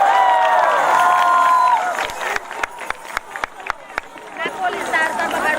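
Crowd at a national scouting jamboree in Nashik cheering loudly, then breaking into scattered, uneven claps with shouts and chatter mixed in.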